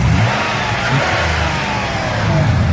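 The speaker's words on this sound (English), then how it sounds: "Plenty of response from that engine." A 2003 Chrysler Town & Country LX minivan engine, 95k miles, revs steadily and loudly up close, a constant throaty rumble with no talking.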